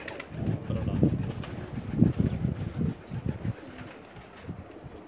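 Pigeons coo on a rooftop loft in Pakistan, a run of low, throaty calls with some wing flutter, close and moderately loud, fading in the last seconds.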